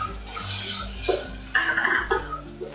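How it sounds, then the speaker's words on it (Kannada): Ground masala mixture being stirred in a pan for methi pulao with avarekalu, giving scraping, clinking utensil sounds against the pan in short irregular strokes, moderately close, with no talk. "ರುಬ್ಬಿರುವಂಥ ಮಿಶ್ರಣ ಹಾಕೊಂಡಿದ್ದ ನಂತರ ಎಲ್ಲ ಚೆನ್ನಾಗಿ ಮಿಕ್ಸ್ ಮಾಡ್ಕೊಳ್ತೀನಿ"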